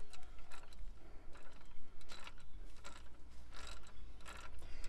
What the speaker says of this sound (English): I'm now using a 12 mil socket. To undo the slave cylinder.